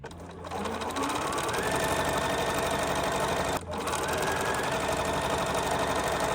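A sewing machine runs in a continuous fast stitching whir while sewing a fabric pet bandana, with one brief pause midway before it resumes.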